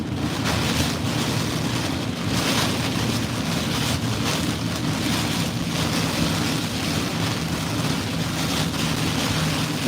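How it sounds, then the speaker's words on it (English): Strong hurricane wind from Hurricane Francine in Louisiana, heard as a steady, loud, unbroken roar with gusty surges and rough buffeting. "This wind is pretty crazy."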